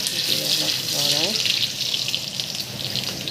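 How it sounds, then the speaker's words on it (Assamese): Garlic and ginger frying in hot oil in a wok while being stirred, a steady close sizzle under brief talking near the start. "কেৰাহীত তেল গৰম হৈ গ'ল। ইয়াত পিছত নহৰুখিনি দিছোঁ, তাৰপিছতে আদাখিনি দিছোঁ, দি অলপ লৰাই"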